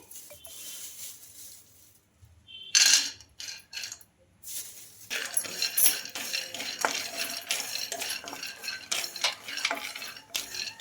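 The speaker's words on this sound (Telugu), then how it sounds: "పల్లీలు అయితే వేయించుకుంటున్నాను నేను కడాయి పెట్టేసుకొని" Peanuts dry-roasting in a kadai rattle and scrape against the metal as they are stirred, first in short separate bursts, then in a busy, continuous patter near at hand.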